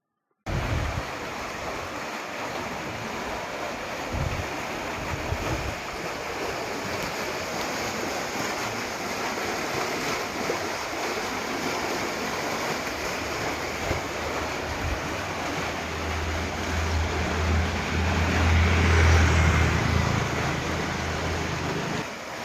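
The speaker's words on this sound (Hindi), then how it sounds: "पाइपलाइन टूट जाने से लाखों लीटर पानी बह गया और सड़क ने नदी का रूप ले लिया।" Water from a broken pipeline gushing and flooding across a road, a steady broad rushing roar with a low rumble swelling near the end, no voices.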